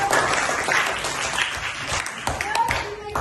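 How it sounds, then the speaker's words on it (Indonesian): Classroom applause after a learning tournament, a dense burst of many hands clapping together at close range, mixed with voices and cheering throughout. "Boleh tepuk tangan?"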